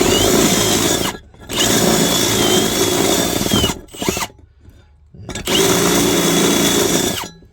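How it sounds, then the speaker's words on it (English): A power drill whines loudly drilling lightly into metal to remove burrs on a training lock, in several sustained bursts with short quiet gaps between; close and harsh, with no talking. "Just take the burrs off, just do a light drill into it."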